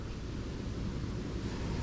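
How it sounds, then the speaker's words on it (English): Strong wind buffets the microphone with a steady, loud roar and low rumble, continuous throughout with no other sounds standing out. "Man, it's windy."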